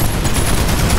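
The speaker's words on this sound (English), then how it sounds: "So the chain gun is pretty cool," A chain gun in Planetside 2 fires a loud, continuous burst of rapid shots, the dense stream of gunfire running unbroken for about a second.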